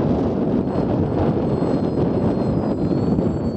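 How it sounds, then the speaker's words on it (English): Strong spring wind blowing outdoors in Finnmark, a steady loud roar buffeting the microphone throughout with no letup and no talking. "the wind start taking up, and right now it's not good at all"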